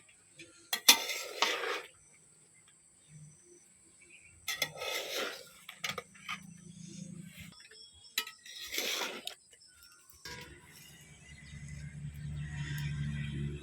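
A utensil stirs homemade tomato sauce cooking in a pot, scraping and clinking against the metal in several bursts, with a low simmering sizzle building toward the end.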